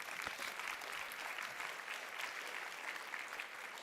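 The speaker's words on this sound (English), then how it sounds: "You may applaud." A conference audience applauds steadily, a soft, even wash of many hands clapping that continues throughout without speech.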